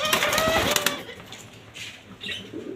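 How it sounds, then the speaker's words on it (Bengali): A pair of golden-coloured doves coo softly. Wings flutter loudly near the start, then fainter calls follow with light background noise. "এইখানে রয়েছে দর্শক আর এক জোড়া গোল্ডেন কালার ঘুঘু"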